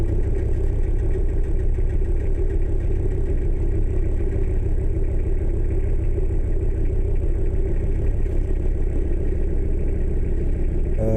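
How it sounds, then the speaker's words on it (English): A rattly old car engine that needs water idles while waiting at traffic lights near the M9 motorway in Falkirk, Scotland, a loud continuous low rumble with faint clatter, steady throughout, no talk. "I'm going to sit here and listen to this rattly old engine"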